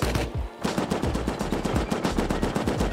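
Rapid automatic gunfire from the video game Rust rattles on continuously in loud, dense bursts, with a short pause near the start before the shooting resumes.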